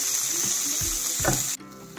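Onion, curry leaves and green chillies hit hot oil in a pan for masala upma, giving a loud, bright hiss with a few stirring scrapes before it cuts off abruptly.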